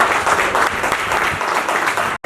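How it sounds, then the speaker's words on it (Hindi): A crowd at an award ceremony gives loud, sustained applause to welcome the honourees, a dense wash of clapping that continues steadily before cutting off abruptly. "उनका स्वागत करता हूं जोरदार तालियों के लिए"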